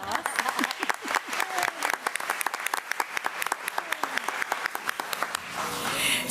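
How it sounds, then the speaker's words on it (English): Audience at a county school district board meeting bursts into a round of applause for a music teacher, steady clapping throughout, building slightly toward the end, with some voices mixed in. "Let's give Taylor a round of applause."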